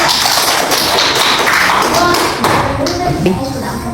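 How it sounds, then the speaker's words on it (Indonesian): Steady classroom applause for a student group after its presentation, dense overlapping claps from many children, loud and close with a few voices mixed in. "tepuk tangan untuk kelompok"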